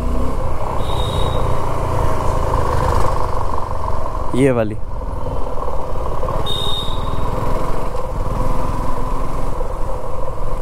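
A Suzuki V-Strom motorcycle engine runs steadily at idle with a rough, buzzing drone, close by, while someone talks over it throughout.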